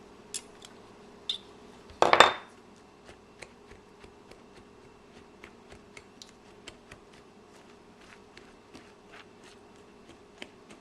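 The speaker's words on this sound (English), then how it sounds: "And you can just cut the butter in the flour mixture" Butter being cut into a flour mixture for a peach blackberry cobbler, heard as a run of light, quick ticks and taps, with one louder scrape and clatter early on, close and fairly quiet.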